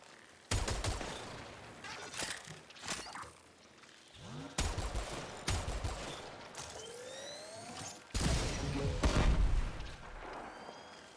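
Bursts of rapid gunfire from primary weapons in the video game Warframe, loud and dense, broken by short pauses and mixed with sweeping sci-fi effects and mechanical clatter.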